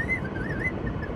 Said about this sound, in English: Was that a whistle now?